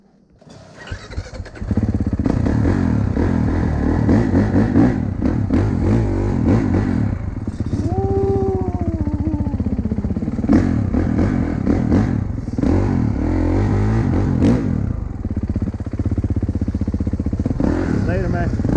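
Kawasaki KX dirt bike, a 2023 KX450F or KX112, firing up and revving nearby: a loud, continuous two-stroke-style engine drone with rises and falls in pitch, while people talk over it.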